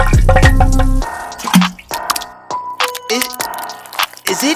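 Wet, squelchy dripping sound effect in a comedy music track, a few drips and liquid splats spread over a few seconds against a musical background.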